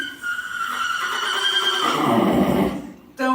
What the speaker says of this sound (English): Don't mind the horses in the barn.